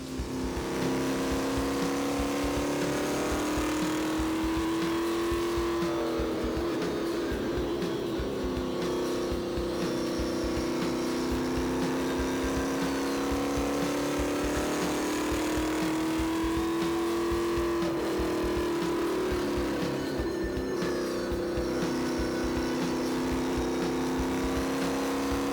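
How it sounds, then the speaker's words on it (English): A race car laps the oval at Jennerstown Speedway, its engine a loud, continuous in-car drone whose pitch swells and dips through the straights and turns. "Here's your chance to do a lap around Jennerstown Speedway."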